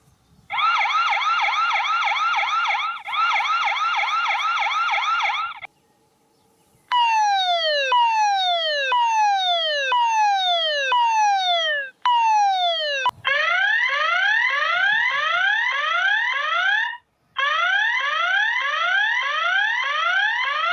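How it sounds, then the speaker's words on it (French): An ANRAN C3 solar security camera sounds its siren alarm, cycling loudly through several distinct tones: a warbling wail, then repeated falling sweeps, then rapid rising whoops, separated by brief silences. "On a 3 alarmes différentes. On peut régler le volume et vous pouvez définir quand l'alarme va sonner ou pas."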